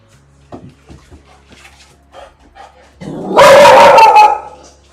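A dog barks loudly in a burst of several rapid barks, close by, following a stretch of faint quiet shuffling sounds.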